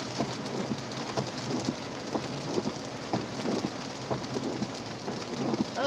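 Steady rain on a surface during a passing thunderstorm, with a constant wash of noise and soft rumbling swells but no sharp thunder crack; no one speaks.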